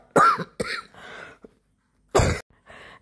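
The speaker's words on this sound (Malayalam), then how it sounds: "ചുമ ഇങ്ങനെ പിന്നെ ഇങ്ങനെ നിൽക്കുന്നുണ്ട്" A person with a lingering cough coughs in several harsh, close bursts, two quick ones, a softer trailing one, then after a pause another loud cough and a weaker follow-up.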